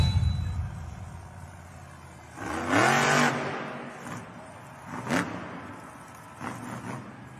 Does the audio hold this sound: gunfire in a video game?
no